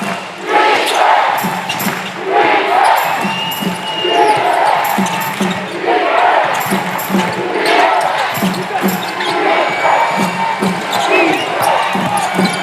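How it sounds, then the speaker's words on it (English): A crowd in a college basketball arena in Hawaii, at a Big West tournament game between UH Mānoa and CS Fullerton, roars loudly and steadily, with a ball bouncing on the court and a commentator talking over the noise. "The crowd going to try to turn up the volume knob again."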